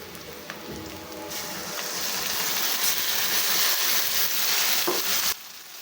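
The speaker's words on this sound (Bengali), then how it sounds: "মশলাগুলো গুলে নিচ্ছি" Turmeric, chilli, garlic, ginger, cumin and coriander pastes fry and get stirred together with chicken in a pan, a steady loud crackling sizzle with scraping strokes that stops abruptly near the end.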